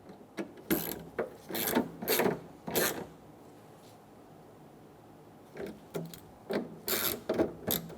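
A ratchet tightens the tailgate handle bolts on a 2014-2018 Chevrolet Silverado 1500 in two close bursts of quick clicking strokes, separated by a few seconds of quiet.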